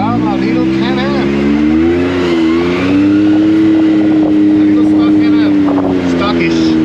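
A Can-Am XRS side-by-side engine drones loud and close, holding a steady pitch that swells slightly as it pulls, with no clear breaks or other sounds.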